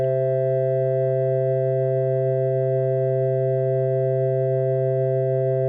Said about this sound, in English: that's what those tones sound like all together now